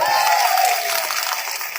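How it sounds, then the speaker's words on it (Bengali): Crowd applause and cheering for a police station officer-in-charge at a public gathering, a dense wash of clapping held steady for the whole moment, close and loud. "হাসনাবাদ থানার জন্য, ভারপ্রাপ্ত অফিসারের জন্য একটা জোরদার হাততালি হোক।"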